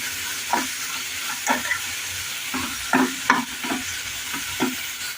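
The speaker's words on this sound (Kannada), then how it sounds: "ಶುಂಠಿ ಬೆಳ್ಳುಳ್ಳಿ ಪೇಸ್ಟು ಒಂದು ಸ್ಪೂನು ಹಸಿ ಸ್ಮೆಲ್ ಹೋಗೋ ಚೆನ್ನಾಗಿ ಹುರ್ಕೋಬೇಕು" Ginger garlic paste fries with chicken in a pan under a soft, steady sizzle, while a spoon scrapes and stirs in repeated short strokes close by.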